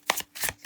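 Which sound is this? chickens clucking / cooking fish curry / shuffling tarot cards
shuffling tarot cards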